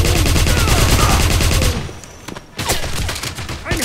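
Sustained rapid machine-gun fire in the shooter Wolfenstein during an attack on a Nazi camp, loud and continuous, then a pause and a few separate sharp shots afterward.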